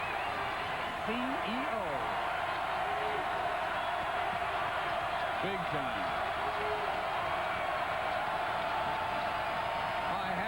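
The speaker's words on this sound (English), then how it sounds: "I haven't heard the crowd here at Pauley this boisterous in a long time." Loud, boisterous basketball crowd roaring at Pauley Pavilion during a 1995 UCLA vs Cal Pac-10 game, a dense steady wash of cheering with a few whoops, under a commentator's voice.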